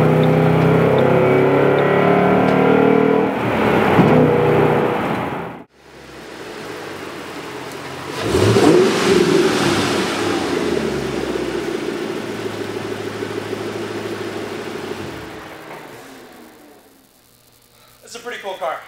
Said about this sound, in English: Engine revs really freely.